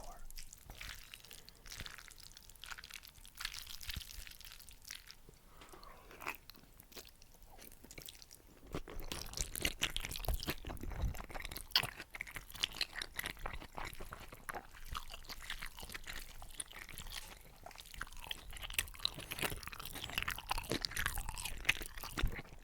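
Close, wet chewing and slurping of medium-spicy hot and sour Chinese broad jelly noodles continues throughout, with crunchy bites and soft mouth sounds that grow louder and busier in the second half.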